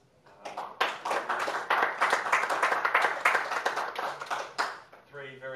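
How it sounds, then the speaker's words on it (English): Applause from a conference session audience for three presenters: a dense patter of many hands clapping, building quickly and holding steady for several seconds before tapering off, with a voice briefly audible at the end. "If we could give a round of applause for our three presenters."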